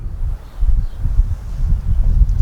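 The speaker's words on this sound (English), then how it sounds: "It's cold, it's windy. Hopefully it won't pick up too much wind noise." Cold wind gusts blow outdoors around a tree being trimmed, a steady low rumble and buffeting against the microphone that rises and falls in uneven waves, with faint rustling above it.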